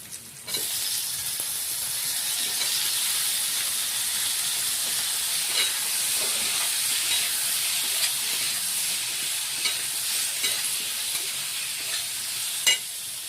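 Cut potato pieces with salt fry in a pan for chana masala, giving a constant loud sizzling hiss. Faint stirring clicks and taps come through now and then, with no talk.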